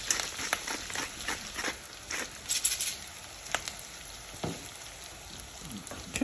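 Beef tongue stew sizzling and crackling in a Staub pot, with scattered pops and soft scraping as it is stirred now and then, steady and close.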